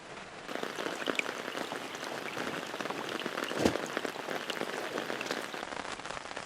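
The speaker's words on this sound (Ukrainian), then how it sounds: "Принаймні дощ на мене не паде." Autumn rain patters steadily on a fishing shelter, a dense, even hiss of countless drops with one brief louder knock partway through, close and continuous with no talking.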